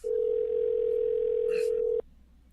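A telephone ring tone on a forwarded call sounds as one steady, loud tone for about two seconds, then cuts off abruptly, leaving faint background noise.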